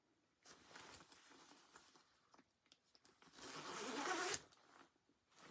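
A zipper on a winter coat rasps in short tugs, then one longer, louder zip that ends abruptly, close up with no talking.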